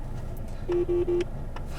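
Three short, steady electronic tones in quick succession ring out clearly over low background hum from a phone call setup, with no talking.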